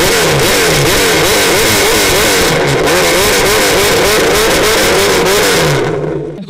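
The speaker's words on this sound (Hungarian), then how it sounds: "A zsűri a legszebb hangú kétkerekűt kereste." Motorcycle engine revs loudly and close at a best-sounding bike contest, throttle rising and falling in repeated wavering sweeps before fading at the end.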